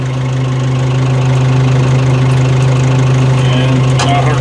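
Compact tractor with hydrostatic drive running, its engine a loud steady close-up diesel drone with a low throbbing hum throughout, someone talking over it.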